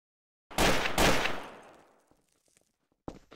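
Two loud, close gunshot blasts in the video game TTT ring out in quick succession and decay into echoes, followed by a few faint clicks and a brief sharp sound.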